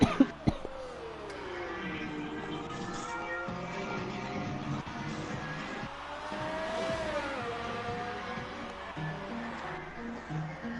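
Race car engines in a racing video game whine and rev continuously, their pitch rising and falling as several cars circle the track, heard at a moderate level with no talk.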